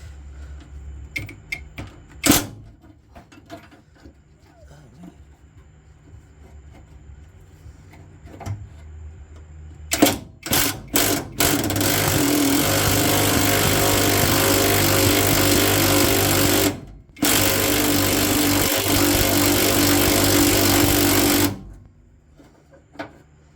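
Power tool driving a wrench on a vehicle with its back tank removed, starting with a few short bursts and then running loud and steady for about ten seconds with one brief break.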